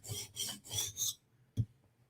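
A knife edge being sharpened: four rough rasping strokes in quick succession, then a short pause and a single low thump, all close and clear with no talking.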